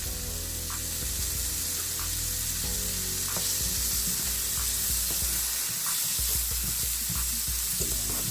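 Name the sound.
butter and minced garlic sizzling in a pan with steak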